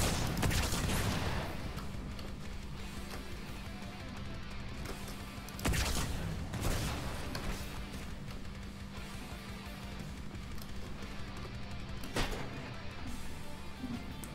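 Bursts of alien weapon fire and booming explosions from Halo 2 battle combat, with sharp blasts near the start, around five to seven seconds and again near twelve seconds over a continuous rumble.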